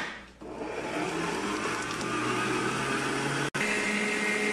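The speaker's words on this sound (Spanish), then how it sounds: "Lo primero que vamos a hacer es colocar el queso crema en nuestra batidora" An electric stand mixer creams cream cheese in its bowl with a steady, loud whirring hum that runs almost unbroken, dipping briefly once near the start and cutting out for an instant near the end.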